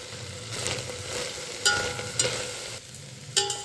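Spice powders, coriander powder and garam masala, being stirred in a pan for capsicum rice, giving a soft steady scraping and sizzle with a few sharper clinks of the spoon against the pan.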